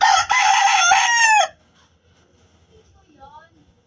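A rooster crows loudly and close by in one long, drawn-out call that ends abruptly, followed by quiet clucking and soft farmyard sounds.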